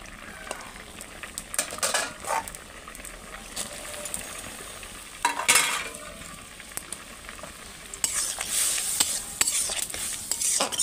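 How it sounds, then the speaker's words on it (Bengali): Bitter gourd goes into a pot of half-boiled potatoes and is stirred, with a spoon scraping and knocking against the metal pot over a soft sizzle and bubbling, growing busier toward the end. "এবার আমি ওতে ঢেলে দেবো করলাগুলো।"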